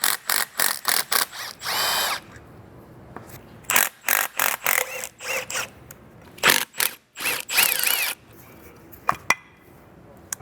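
Close bursts of a power drill or impact tool on the oil cooler thermostat bolts of a BMW N55 engine, several short whirring runs with ratcheting pauses between them.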